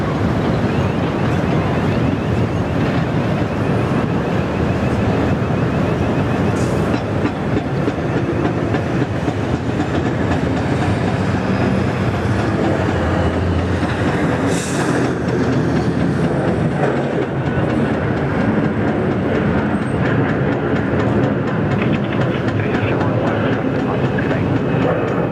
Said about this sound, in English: Next one to go out here is the Garuda A330, first departure from Garuda today.